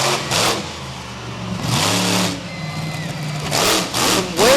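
A monster truck engine revs in loud surging bursts while spinning donuts on a dirt track, rising and falling in pitch with a crowd-like wash underneath.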